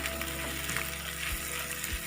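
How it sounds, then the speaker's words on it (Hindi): Egg and tinda sabzi frying and being stirred in a pan, a dense continuous sizzle up close with a low hum beneath and occasional spoon scrapes. "अब हम इसे अच्छे से मिक्स कर लेंगे।"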